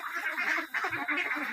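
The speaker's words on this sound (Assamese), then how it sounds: "এইখিনি হ'ল লোকেল পাতিহাঁহ, যিখিনি দেশী হাঁহ বুলি কোৱা হয়।" Local desi ducks on a duck farm in Nalbari, Assam, calling in a steady, close chorus of overlapping honking quacks that runs without a break.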